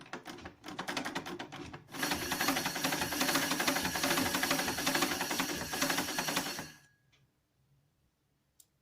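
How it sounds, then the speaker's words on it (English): A sewing machine run by turning the hand wheel clockwise, first a quick rhythmic clatter, then a loud continuous mechanical whir for about five seconds that stops abruptly, followed by near silence and a faint click. "I'll just roll the hand wheel clockwise"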